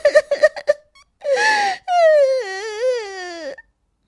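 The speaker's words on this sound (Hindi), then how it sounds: "यहाँ कौन रो रहा है?" A high, wavering wail with short sobbing gasps before it, like a child or young person crying loudly nearby in a forest, no other talk.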